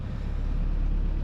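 Engines on a 35-year-old yacht warm up at anchor, making a steady, broad, close rumbling drone with wind-like noise and no speech.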